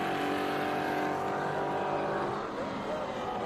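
Race car engine at the Velocity Invitational 2021 going back on throttle, a sustained rising engine note heard at a moderate distance, with an announcer talking over it.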